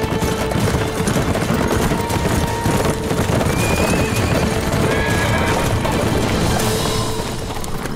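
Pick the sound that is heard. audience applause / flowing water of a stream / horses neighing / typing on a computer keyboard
horses neighing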